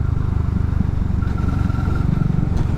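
A Suzuki V-Strom 650 XT motorcycle's engine holds around 3000 rpm, giving a close, steady low throb with even pulsing throughout and a faint whine rising briefly partway through.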